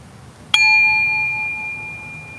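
A meditation bell is struck once and rings out clearly, its bright, sustained tone slowly fading over a steady background hiss.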